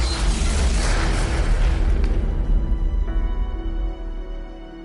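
A vehicle engine explosion: a loud, sustained roaring burst fills the opening seconds, then gives way to a steadier mechanical hum and ringing tones as it fades.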